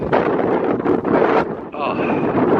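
Wind buffeting the microphone outdoors at a renovation site of a vacant Marathon gas station, a loud rumbling roar in gusts, with a brief tonal whistle toward the end.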